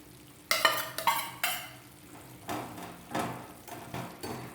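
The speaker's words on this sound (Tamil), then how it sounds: "நெய் சூடேறிடுச்சு, முந்திரியை போட்டுடலாம்." Hot ghee crackles and sizzles as cashews fry, with sharp bursts of spattering followed by a steady frying hiss and occasional stirring scrapes.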